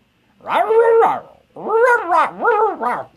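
A voice imitates a dog, producing a drawn-out whining bark followed by three quick yapping barks, close and loud.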